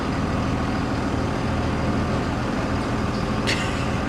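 FedEx freight truck with a 24-volt Cummins engine and Allison transmission backing up, a steady close diesel drone with a brief hiss near the end and no talking.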